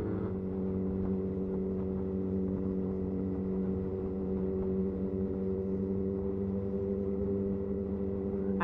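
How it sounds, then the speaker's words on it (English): An 800 cc motorcycle engine runs at low RPM, a steady, even low drone with a smooth throbbing hum held at a constant pitch. "When he goes into low RPMs,"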